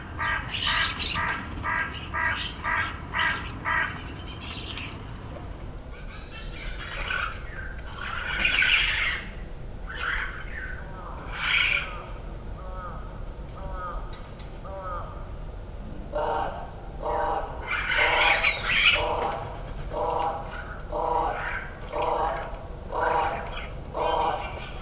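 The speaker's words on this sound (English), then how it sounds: "Starlings and crows." Starlings and crows call outdoors, with rapid repeated chattering bursts and harsh squawks coming in clusters over a low background rumble.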